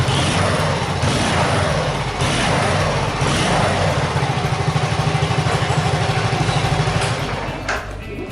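The engine of a friend's Honda Cub with a faulty electric starter runs after a kick start, loud and close, settling into a steady, fast-pulsing putter that eases off slightly at the end, with no talk.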